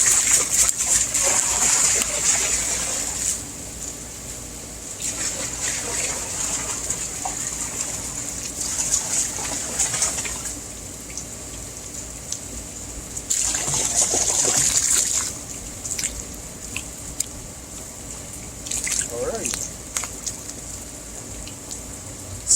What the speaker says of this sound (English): But let's pour some chlorine in this bad boy.